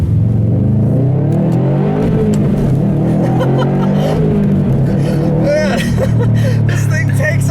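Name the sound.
2018 Subaru WRX STI turbocharged flat-4 engine accelerating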